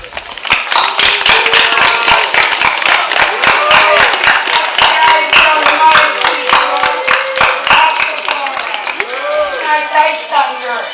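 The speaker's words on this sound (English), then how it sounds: "let us give ourselves a round of applause now" Steady clapping from an audience at a spoken testimony gathering fills the space, loud and continuous for several seconds, then thins out as a voice rises over it.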